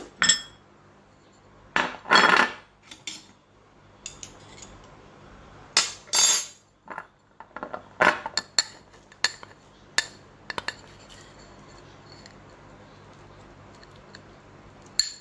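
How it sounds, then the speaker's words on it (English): An empty bowl is set down and shifted on a kitchen counter while making sourdough starter, giving a few sharp ceramic clinks and knocks scattered through an otherwise quiet stretch, close and fairly crisp. "I'm taking one empty bowl"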